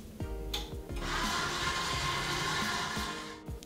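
An electric kitchen mixer whirs steadily as it beats butter, icing sugar and almond powder together, with a close motor hum that shifts slightly in pitch and ends with a few clunks.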